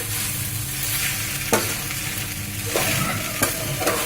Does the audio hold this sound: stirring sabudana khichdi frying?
yes